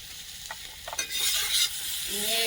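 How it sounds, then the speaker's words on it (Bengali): A spoon stirs drumstick curry seasoned with coriander powder in a pan in a village kitchen, scraping in irregular strokes over a steady sizzle, close and fairly quiet, with no voices. "দিয়ে একটু নাড়াচাড়া করে জল দিয়ে দেবো"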